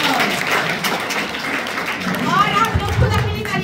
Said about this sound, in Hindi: इनके सम्मान के जोरदार ताली बजाइए।